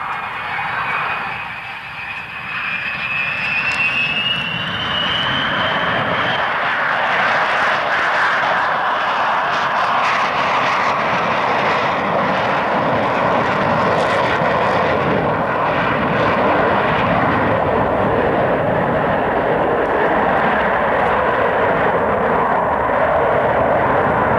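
A four-engine turbofan jet aircraft, Spey-powered in place of the Comet's Avons, flies past at an RAF Coningsby airshow, its roar building from a whining approach into a loud sustained rumble that fills the rest of the pass.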